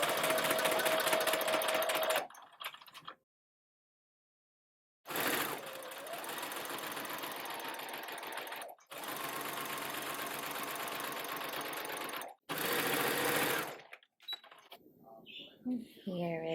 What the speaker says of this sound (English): Okay, so I'm gonna stitch it down at a 1/4 seam allowance.